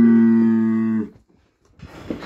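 A single long, loud moo from a bull lasting about a second, followed by quieter rustling and background movement with no talk.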